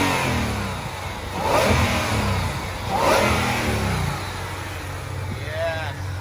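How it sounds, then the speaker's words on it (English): A 2020 Shelby GT500 engine revs twice in short bursts, its supercharger blower adding a whine over the steady mid-pitched exhaust drone, with a brief rising whine near the end and voices talking nearby. "Let's hear some blower noise."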